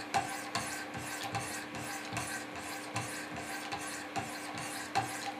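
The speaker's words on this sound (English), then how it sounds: "So I'll do a few more strokes with my 400 grit stones." Wicked Edge 400 grit stones stroke along a Benchmade Mini-Griptilian knife blade in a steady alternating rhythm, each close rasping scrape followed by a light click as the stones change sides, with no talking.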